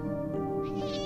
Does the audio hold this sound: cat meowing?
yes